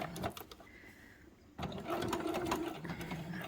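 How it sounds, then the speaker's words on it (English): A sewing machine stitches a tote bag's lining to its outer fabric, running in a steady close mechanical whir after a brief pause, with no talk. "and then we're just going to start stitching"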